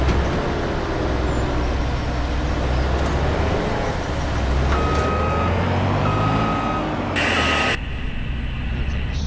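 A truck backing up with a trailer in the Farming Simulator 25 game, with a steady engine rumble and a repeating reversing beep that starts partway through, ending in a brief loud burst near the end.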